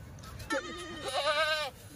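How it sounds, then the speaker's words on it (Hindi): Goats on a goat farm bleating close by, two or three quavering calls in quick succession over faint background noise. "एक एक करके बकरी दिखाते हैं"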